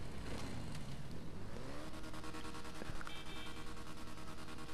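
A Twin 1000 motorcycle engine revs up, its tone climbing as the throttle opens, then settles into a sustained buzzing drone, loud and close.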